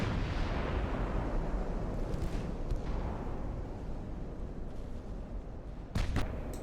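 Naval gunfire booms and shell impacts on a destroyer in the Ultimate Admiral Dreadnoughts naval battle game, a sustained heavy rumble of explosions fading slowly, with a sharper burst of hits near the end.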